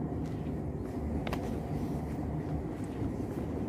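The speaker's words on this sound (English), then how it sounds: "you can see the tram now is leaving" Low steady rumble of a tram rolling away from a stop at Salford Quays, with a faint metallic squeal and clatter partway through, moderately distant.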